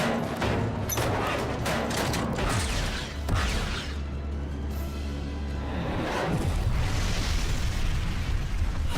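A film explosion scene: a dense, continuous roar of blasts and rumbling debris, loud and close, with layered bursts and deep booming throughout and no talk.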